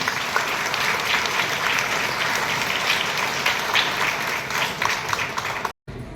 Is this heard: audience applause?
yes